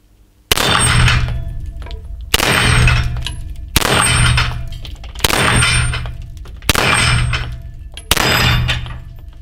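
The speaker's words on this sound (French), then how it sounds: "Passons maintenant à l'amusement en faisant du tir sur gong." Six Beretta M92 Combat pistol shots strike a steel gong at a steady pace about one and a half seconds apart, each a loud, sharp bang with a ringing metallic clang that decays slowly.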